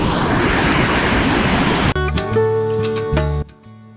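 Adyanpara waterfall pours down rock tiers in a dense, steady roar of rushing water that cuts off abruptly after about two seconds, giving way to tonal, music-like sounds.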